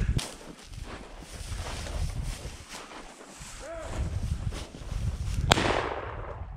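Gunshots from several hunters firing while rabbit hunting outdoors, with a few sharp reports over a busy background and one loud crack near the end.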